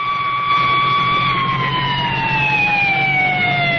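Ambulance siren pulling away from a highway accident scene, a loud steady wail whose pitch slowly drops as it recedes, heard alone over a low road rumble.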